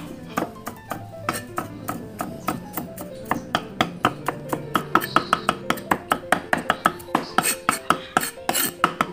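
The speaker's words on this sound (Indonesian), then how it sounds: "Oke teman-teman, bawang putihnya kita cincang ya." A knife chops garlic on a cutting board in quick, sharp, close taps. The rhythm starts sparse and speeds into a rapid, regular run of strikes, and no one speaks.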